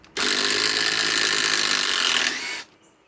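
A Metabo HPT WH18DDX sub-compact impact driver sinks a 4-inch timber lock screw into wood in one close, loud burst of rapid hammering that lasts about two and a half seconds, then stops abruptly.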